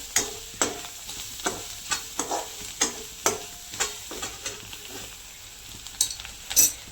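Onion, chili, garlic and salt sauté in a pan with a soft continuous sizzle, punctuated by regular sharp scrapes of a spatula stirring roughly every half second, close up and without speech.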